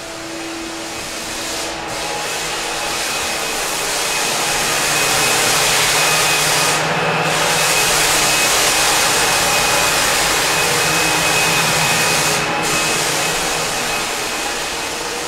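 A floor sanding machine grinding across a white oak floor, a loud, steady, rough whirring roar that swells slightly and holds for a long stretch, with brief dips as the machine shifts.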